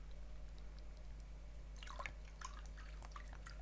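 Water trickling and splashing into a rubber balloon during a science demonstration, a cluster of small irregular drips and gurgles arriving after a quiet start, faint over a steady low electrical hum.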